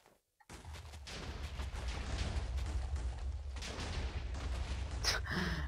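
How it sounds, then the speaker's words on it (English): Repeated TNT explosions in Minecraft with the Tekkit mod, blowing up a house and a city: a dense, sustained rumble of blasts and crackling debris, loud and continuous for several seconds with a sharper burst near the end. "Oh crap, accidental explosions again."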